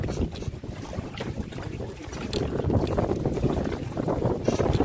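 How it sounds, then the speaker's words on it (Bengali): A Sundarbans fishing boat speeds along, driven by strong storm wind. Gusting wind buffets the microphone over a continuous rush of water, loud and close throughout. "আমাদের নৌকা হাওয়ার টানে প্রচুর স্পিড হয়ে গেছে"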